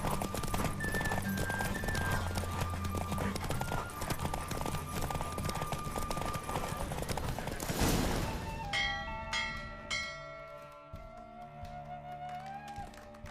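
Rapid galloping horse hoofbeats in The Witcher 3 video game pound under a loud rushing soundtrack during a race, then the music swells and a tonal chime rings as the gallop fades.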